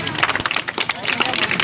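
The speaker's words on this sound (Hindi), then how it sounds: "ताली ताली" Dense audience clapping mixed with crowd chatter at a rap performance, brief and busy, with a voice over it.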